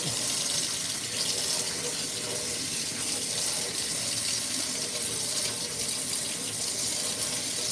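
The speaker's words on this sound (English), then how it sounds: "So just rinse this out." Water from a tap runs continuously into a metal sink while a paint brush is rinsed, a steady close splashing hiss with no break.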